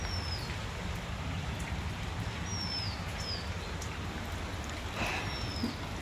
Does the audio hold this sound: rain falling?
yes